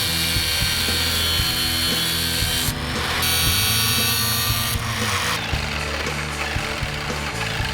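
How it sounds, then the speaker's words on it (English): Cutting overlong metal bolts to length for a DIY overland fridge slide, with a loud, continuous power-tool whine and grinding buzz that shifts pitch as the blade bites, running close and unbroken. "The bolts were obviously too long, so I had to cut them."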